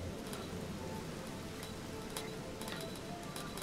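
Rain falls steadily in the video game Rain World, a constant hiss of drops with occasional sharper ticks and patters, even and continuous throughout.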